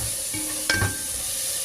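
A cooking dish stirred in a pot gives a soft simmering sizzle with a quick scrape and clink of a utensil near the middle, close and brief, with no voices.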